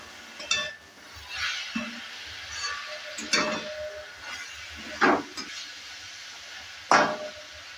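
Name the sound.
stirring potato leaves frying in mustard oil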